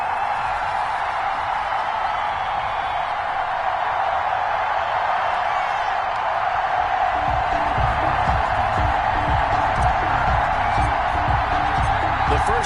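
Home crowd roaring at a Miami Dolphins game against the Buffalo Bills in an American football video game, a steady dense stadium wash of cheering with a rhythmic pulse of low thumps building in the second half.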